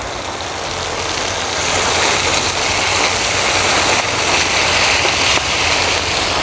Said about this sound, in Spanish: Me encanta la lluvia.